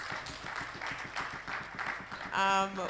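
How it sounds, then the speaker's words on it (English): An audience at a panel discussion on debates applauds the panelists with a steady, dense patter of many hands, fading into a brief tone and voices near the end. "Please, a round of applause, please, for our panelists"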